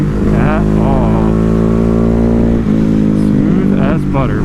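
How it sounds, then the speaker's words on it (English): A Ducati Hypermotard 950 motorcycle at full throttle with wheelie control off: a loud, buzzing engine climbs in pitch, eases briefly, then revs again, while a rider talks over it. "Full throttle. I have no wheelie control on, and it'll just do it."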